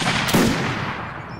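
Gunfire in a combat video game set around a building: one sharp shot rings out near the start and dense, continuous shooting noise follows throughout, loud and up close.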